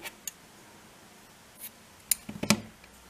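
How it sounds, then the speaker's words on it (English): Scissors cut yarn while finishing a crocheted baby bootie: a few quick, close, quiet snips cluster near the end, after faint small handling noises. "chain one and cut the yarn"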